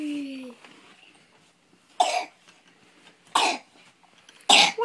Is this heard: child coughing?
yes